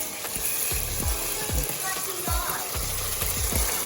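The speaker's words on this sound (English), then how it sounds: "I'm sauteing the seasoning and I'm putting the saltfish in" Seasoning and saltfish sautéing in a pan for ackee and saltfish, a steady, close sizzle under repeated clinks and scrapes from stirring, with a broad hiss throughout.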